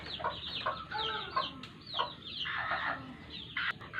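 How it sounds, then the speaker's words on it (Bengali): Chickens cluck nearby in short, irregular bursts, soft and chattering, with a few sharper calls mixed in. "এই ডালপালাগুলো আমার মুরগিকে খেতে দিব এখন ওরা সুন্দর করে খেয়ে নেবে"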